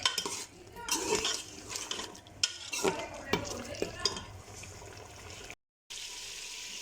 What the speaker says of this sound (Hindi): ऑयल डाल के इन्हें हम अच्छी तरह से इनकी बुनाई करेंगे।